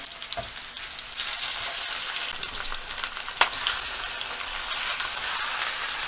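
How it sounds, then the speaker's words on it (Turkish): Steady crackling sizzle of lamb meat frying in hot oil, close and continuous, with a brief clatter partway through. "Yağımız ısınır ısınmaz hemen etlerimizi ekleyelim."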